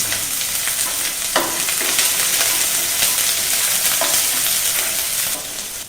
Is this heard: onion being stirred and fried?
yes